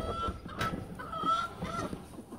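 Several chickens cluck softly nearby in short, scattered bursts while being fed, over a quiet farmyard background.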